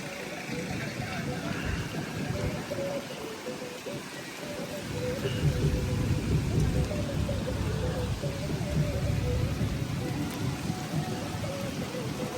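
Steady rain hisses throughout with low rumbling beneath, while people talk over it.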